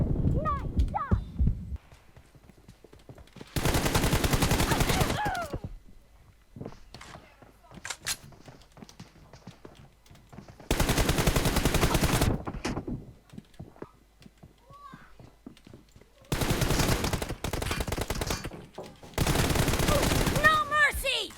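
Video game team deathmatch gunfire: loud sustained bursts of automatic fire in several long volleys, separated by quieter stretches with short game voice lines and scattered effects.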